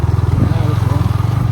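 Motorbike riding along a lakeside road, its engine a steady low pulsing drone close by throughout, with a voice speaking over it.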